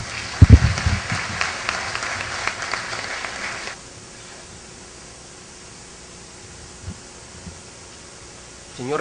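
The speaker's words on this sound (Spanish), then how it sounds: "a quien recibimos con fuertes palmas" An audience at a university academic gathering in Peru breaks into applause to welcome a speaker, a loud burst with sharp claps that fades to a steady hiss, stops abruptly a few seconds in and gives way to quiet room tone.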